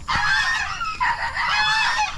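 Farm geese honking loudly and close by, a dense run of overlapping honks and cackles in quick bursts, with some chicken calls mixed in.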